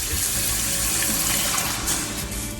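Steady splashing of water poured continuously into a pan of soya chunk kola urundai curry, close and fairly loud, with no voices.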